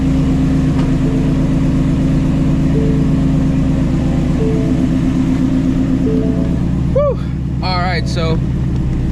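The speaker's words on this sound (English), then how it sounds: "I'm gonna let this car warm up." A Ford Shelby GT350 V8 idles while warming up in a garage, a loud, close, steady deep rumble with a slight lope, and someone talks briefly near the end over the engine.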